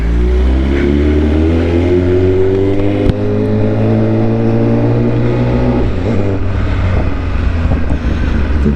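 Motorcycle engine revving up loud and close, a rising drone that climbs steadily in pitch over several seconds, then drops and settles into a rough idle, with some wind buffeting.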